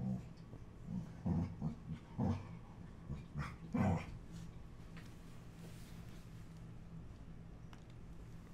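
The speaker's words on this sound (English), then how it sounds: "So my brother's dog is over, and Cooper and Riley is his name, are playi" Two dogs playing indoors, trading a handful of irregular barks and growls at close range, with quieter gaps and faint background noise in between.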